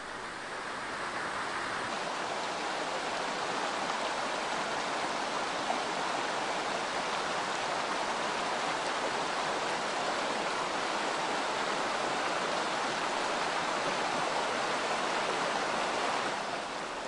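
River water rushes steadily along a stream bed, a dense, even roar of flowing water that stays constant and fairly loud throughout, with no voices.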